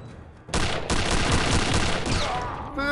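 Rifle gunfire in a video game: after a quiet lead-in, a loud, sustained burst of rapid shots runs for about two seconds before tailing off.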